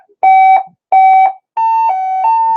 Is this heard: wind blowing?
no